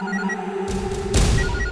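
A phone rings with a repeating electronic tone, steady and moderately loud, with a burst of noise cutting in partway through.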